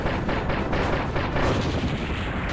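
Fire power-up attack in a Kirby Star Allies stage on Nintendo Switch, gained from golden fire apples: a dense, continuous roaring blast with rapid crackling bursts, loud and steady throughout without talk.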